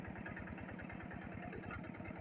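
A farm tractor engine idles and chugs steadily nearby in a Thai rice-farming setting, a rhythmic low thumping pulse running without a break.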